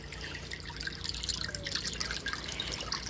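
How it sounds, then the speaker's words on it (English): Water splashes and trickles into an aquarium tank from a homemade sump filter, a soft continuous dribble with light drips, fairly quiet and steady with no speech. "Now it's filling my tank back up, and it's going to overflow into that, and then drain back down to my sump filter."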